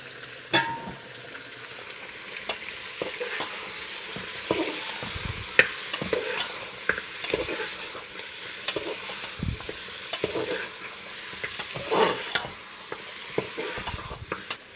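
Meat cooking in ghee sizzles steadily while a utensil stirs it, scraping and clinking against the pot in irregular strokes, close up with no talking.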